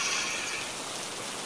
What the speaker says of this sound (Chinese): 下雨的声音。